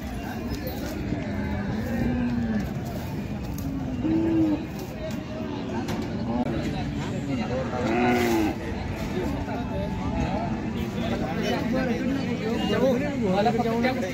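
Khillar cattle at a busy livestock market, with low lowing calls rising now and then beneath constant crowd chatter and bargaining voices close by.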